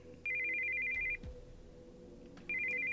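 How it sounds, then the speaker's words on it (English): A cell phone ringing with an incoming call in the visual novel Steins;Gate 0, a bright electronic trill that plays in two bursts separated by a pause, clear over a quiet background hum. "we heard the sound of an incoming call on a cell phone"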